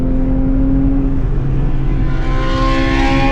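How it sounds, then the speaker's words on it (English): A Honda race car passes on a track, its engine droning loud and close with a steady high whine that rises in pitch as it goes by. "I'm gonna let this Honda pass."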